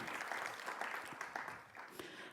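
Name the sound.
applause at a graduation ceremony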